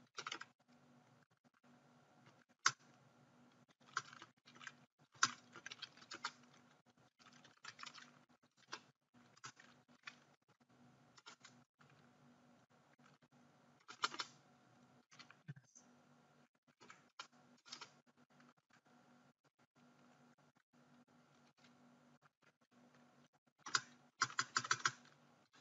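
Code being typed on a computer keyboard, with quiet irregular clusters of key clicks and short pauses spread through a long stretch, faint and close.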